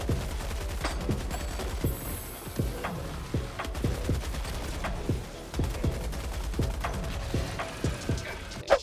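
Heavy machine gun fire in the video game Helldivers 2, a sustained rapid stream of punchy shots with a steady mechanical rhythm, loud and continuous throughout.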